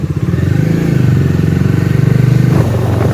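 A motorcycle engine runs loud and close, a fast steady throb that holds level for a few seconds with a slight shift near the end, with no talking over it.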